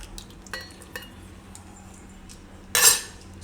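A spoon clinks against a pan while stirring a cornflour mixture for bread rasmalai, with a few light taps and then a louder scraping clatter over a quiet background.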